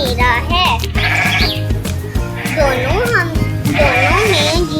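Cartoon goat bleating several times in a children's animated story, loud and wavering, with other voices and background music around it.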